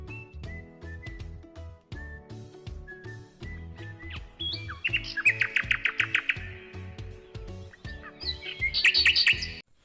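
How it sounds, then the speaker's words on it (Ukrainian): Nightingales singing in spring: a run of bright, varied whistled phrases, rapid chirping trills and repeated clicking notes, loud and close, continuous for about ten seconds with no talking. "прилітають солов'ї"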